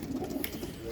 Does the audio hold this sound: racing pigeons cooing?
yes